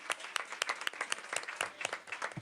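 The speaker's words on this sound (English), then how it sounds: "Give him a round of applause." Audience at an Orleans Parish School Board committee meeting applauding, a dense run of many hands clapping at moderate distance that holds steady throughout.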